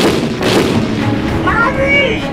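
Rapid gunfire in the BeamNG.drive video game, a dense booming burst of shots that stays loud and continuous throughout, with a voice breaking in partway through.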